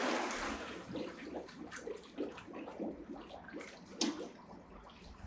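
A swimmer gently kicking their feet in water, soft rhythmic splashes and sloshing at close range, steady and unhurried with no talk over it.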